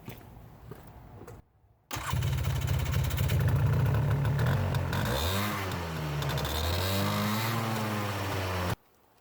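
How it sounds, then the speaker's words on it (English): A Polaris Xplorer utility vehicle engine cranks and catches after a short silence, idles roughly, then is revved repeatedly to clear the muffler. The pitch swoops up and down loudly and close before cutting off abruptly. "you're supposed to start and run the vehicle and rev it a bunch"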